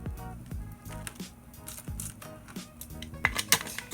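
A brush wet with anhydrous ethanol scrubs the dismantled parts of a Brother multifunction printer's handset, making close, uneven squishing and scratching strokes in short repeated bursts with a few sharper clicks near the end.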